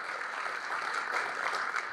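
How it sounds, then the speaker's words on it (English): A crowd claps steadily at a Long Beach civic event, a dense wash of applause that holds evenly throughout without any voices rising above it. "let's give all of our investors and developers from North that are investing in North Long Beach a big round of applause"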